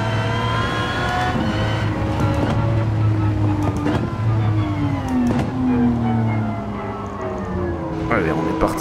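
Aston Martin Vulcan engine in Gran Turismo 7, an onboard drone of revving and shifting pitch under steady talking by a commentator.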